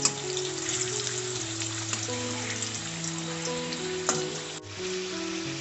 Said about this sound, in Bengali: এবার কেটে রাখা কুমড়োগুলোকে প্রথমে ভেজে নেব তেলে